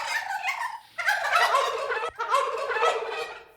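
Several turkeys gobble in a barn, rapid rattling calls overlapping in dense bursts with a short gap between, close and fairly loud with natural room ambience.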